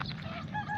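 A flock of birds calls in the distance across an open fishing spot, brief honking cries overlapping within a second, faint and indistinct against low outdoor background noise.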